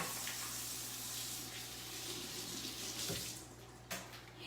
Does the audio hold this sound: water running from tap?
yes